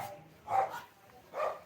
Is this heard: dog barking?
yes